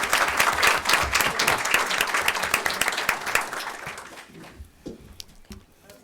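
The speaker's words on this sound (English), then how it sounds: "Can we make an exception and just give a round of applause for Ms." Applause at a school board meeting, a roomful of people clapping briskly and steadily, fairly close, then thinning out to scattered claps and fading near the end.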